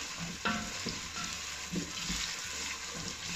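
Sliced carrots sautéing with onion in a pan, a soft continuous sizzle broken by a few utensil stirring scrapes.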